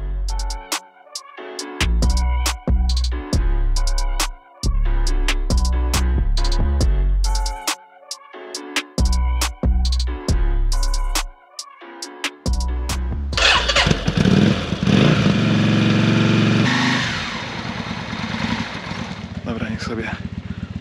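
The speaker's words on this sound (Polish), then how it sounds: "Wiadomo, trzeba rozgrzać silnik." A Yamaha Virago 535 motorcycle engine cranks in repeated short starter bursts with pauses, then catches and settles into a steady, loud idle as it warms up before an oil change.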